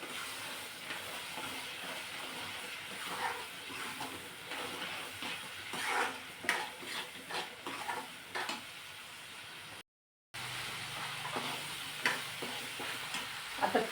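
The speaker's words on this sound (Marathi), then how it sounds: "आता ह्याला आपण जोपर्यंत बटर किंवा तेल सुटत नाही तोपर्यंत परतून घ्यायचा आहे" Pav bhaji mixture sautéed in butter and oil, a steady hissing sizzle with spoon scrapes and stirring rustles, broken by a brief gap of silence partway through.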